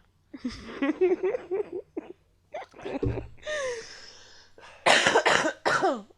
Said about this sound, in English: I can't even chuckle without coughing